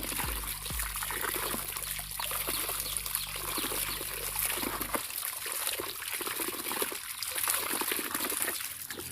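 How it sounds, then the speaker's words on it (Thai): Running water pours and trickles steadily over a potted caladium plant as it is rinsed, a continuous close splashing stream that shifts in tone partway through. "เดี๋ยวผมขออนุญาตไปล้างก่อนนะเพื่อนๆ ล้างเลยครับ"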